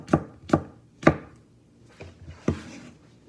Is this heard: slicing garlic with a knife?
yes